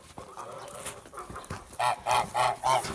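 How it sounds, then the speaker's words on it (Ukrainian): Old geese honk loudly and close by in four or five rhythmic blasts, following a stretch of rustling and soft handling noise. "Наступні старенькі гусачки"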